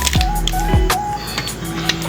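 An inkjet printer prints photos and invitations, its carriage motor whirring and sweeping in short passes with mechanical clicks and a rising tone, loud and close with no speech.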